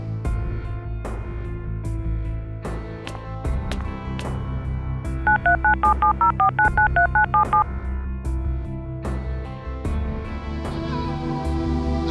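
Phone keypad tones beep in a quick run of about a dozen presses, sounding over music with sharp percussive hits.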